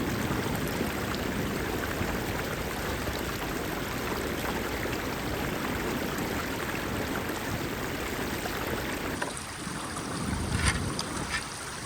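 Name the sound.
water flowing through a redirected stream channel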